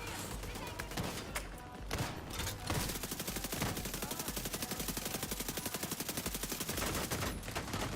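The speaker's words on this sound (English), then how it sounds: "Fast SMGs." Rapid SMG fire in The Division 2 during a PvE fight, a dense, steady stream of shots running loud for most of the stretch after a brief lull, with faint voices underneath.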